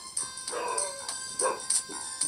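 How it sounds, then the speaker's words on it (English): A house dog gives a few short, moderately close barks and yips, spaced unevenly across a quiet indoor background. "What the hell's Faye barking at?"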